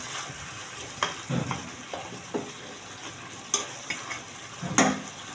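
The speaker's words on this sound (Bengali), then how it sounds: "মাংসটা কষাচ্ছি এখন।" Beef being stirred and sautéed in a pan: a steady sizzle with irregular close scrapes and knocks of a spoon against the pan, and no talking.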